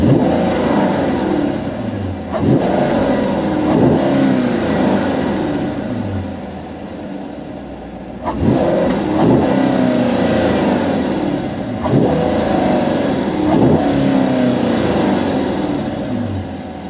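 A 2015 Chevrolet Corvette Stingray Z51 in touring exhaust mode is revved repeatedly, climbing and falling in several steady throttle blips, with a moderate, smooth exhaust note close by.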